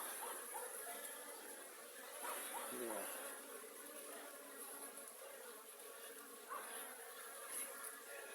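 Many Cordovan and Buckfast honeybees buzz continuously around a hive, a dense steady hum with individual insects flying close by.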